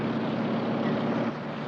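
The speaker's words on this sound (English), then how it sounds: "there's a helicopter following us" A steady, broadband engine drone from a helicopter overhead, continuous and moderately loud with no voices.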